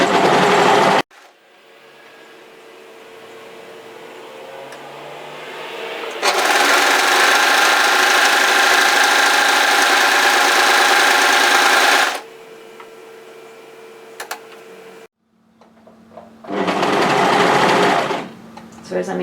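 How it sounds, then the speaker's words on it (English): An overlocker stitches along a long fabric edge of a waterfall collar cardigan in two loud, steady high-speed runs broken by a pause, with a lower mechanical hum and brief handling noise between bursts. "we're going to overlock this long edge here"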